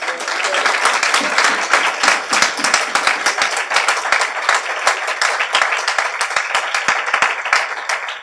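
A church congregation breaks into sustained, dense applause, many hands clapping loudly and continuously in a reverberant hall, with faint voices mixed into the crowd noise.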